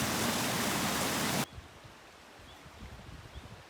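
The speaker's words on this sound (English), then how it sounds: "this, I think, is the largest waterfall in the lower peninsula of Michigan right there." Waterfall on the Manistee River Trail in Michigan's lower peninsula in autumn: a steady, loud rushing roar for about a second and a half, then it cuts off abruptly, leaving quiet outdoor ambience with faint scattered rustles.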